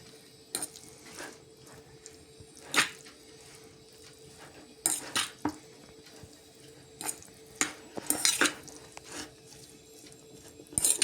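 Carrots for Korean carrot salad are stirred and tossed in a bowl, giving sparse, irregular scraping rustles and soft clinks with quiet pauses between them.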